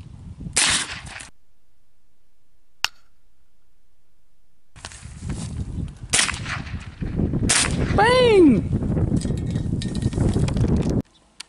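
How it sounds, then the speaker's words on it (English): A Taurus Judge revolver fires a quarter-ounce slug at a pomegranate outdoors with a single sharp, short bang, followed by rustling, wind and handling noise. "we're gonna shoot the judge with a quarter ounce slug at a pomegranate."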